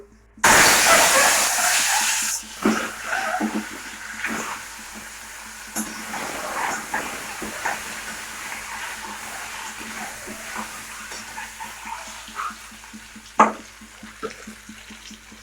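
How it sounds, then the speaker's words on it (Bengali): Chopped onions drop into hot oil with a sudden loud hiss that settles into a steady, quieter frying sizzle, while scattered clinks and stirring scrapes sound close by, and a sharp clatter comes near the end. "পেঁয়াজটা এদিকে ভাজা হতে হতে, ওইদিকে ওটা ভাজা হতে হতে আমরা একবার ডিমগুলো ভেজে নেব"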